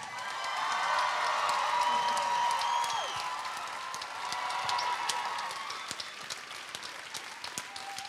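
A studio audience cheers and applauds Macklemore's entrance: dense clapping with loud whoops and shouts, swelling at first, then thinning to scattered claps and calls.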